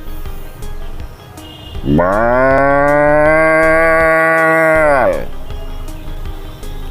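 A voice imitates a cow mooing: one long, loud, sustained low moo lasting about three seconds, close to the microphone, as part of a stand-up comedy routine of animal impressions.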